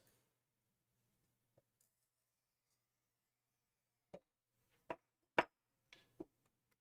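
A handful of sharp, quiet taps on a Bullseye stained glass sheet, irregularly spaced, with near silence between them.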